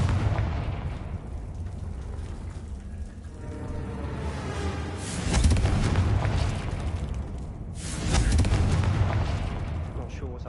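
Blasts of the Confringo fire spell in Hogwarts Legacy: a dense, roaring fiery burst swells twice, around the middle and near the end, over a continuous rumbling game mix, with no speech.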